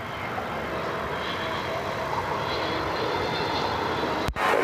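A Frontier Airbus A320neo airliner inbound from Myrtle Beach roars steadily overhead at Cleveland Hopkins airport, a loud, broad engine rumble with a whining edge that holds constant, broken only by a brief dropout near the end.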